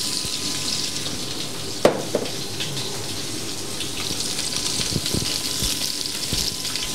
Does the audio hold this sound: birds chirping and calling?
no